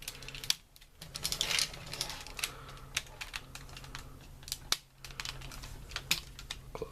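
A Transformers Universe 2.0 Onslaught toy figure is twisted through its conversion, its plastic joints and panels giving rapid, close, irregular clicks and snaps, with no talking over them.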